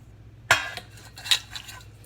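Oiled metal cake pans being handled in a kitchen, a sharp metallic clank followed by a second lighter clink and faint scraping, close and otherwise quiet.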